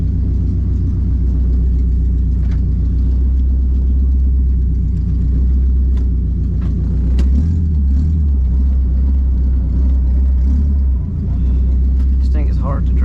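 A loud Honda Civic fitted with a swapped K24 engine drives along, its deep exhaust drone and engine rumble steady throughout, close and dominant, while someone talks over it.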